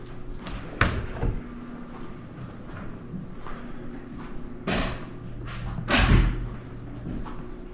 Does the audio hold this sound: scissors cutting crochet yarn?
no